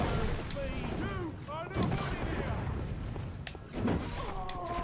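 Booming enemy gunshots in the video game Bloodborne, a few heavy blasts spaced through a busy game soundscape with whooshing movement sounds and a voice talking over the action.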